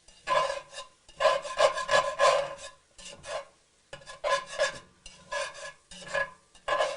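A spoon stirring vegetables through a flour roux for gumbo, scraping along the pot bottom in short rasping bursts with brief pauses between, close and clear with no speech.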